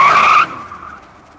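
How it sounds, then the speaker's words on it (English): A green 1969 Dodge Charger Daytona with a 426 Hemi spins its tires in a parking lot, a loud squealing burst for under half a second that drops abruptly into a fading engine rumble. "maybe do a burnout."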